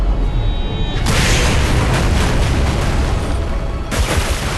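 Explosion attack in the video game Solo Leveling Arise: a loud, dense burst of blasting and rumbling noise that swells sharply after a second and rolls on continuously, with a second surge near the end.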